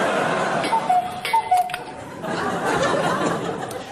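A cuckoo clock ticks steadily in an indoor room, a regular tick-tock running beneath people talking and brief laughter.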